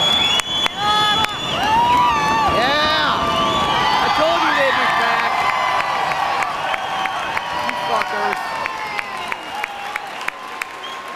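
A concert crowd at a live show cheers, whistles and shouts while clapping rises and falls around it. The roar is loud and dense and goes on unbroken throughout.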